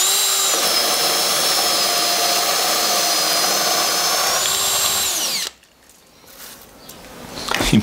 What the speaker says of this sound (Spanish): cortan muy rápido, logrando que la perforación se haga de forma súper rápida